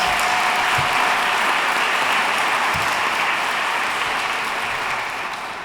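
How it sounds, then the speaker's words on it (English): An audience at a college welcome address claps steadily in a dense, sustained round of applause that fills the room, then gradually thins and fades toward the end, with no talking over it. "Let's have another nice round of applause."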